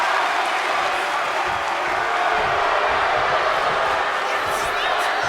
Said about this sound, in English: You're hearing the fight forever chant from the ultralights in the crowd.